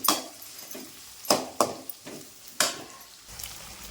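Big onions and two green chillies frying in a pan, with several sharp scraping stirs and clatters of a spoon against the pan over a soft, steady sizzle; no talking.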